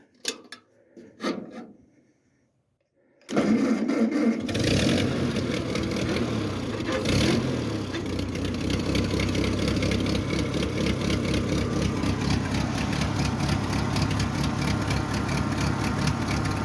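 A 1948 Ford 8N tractor engine cranks after a few quiet knocks, then catches and settles into a loud, steady rough idle close by, running on without talk.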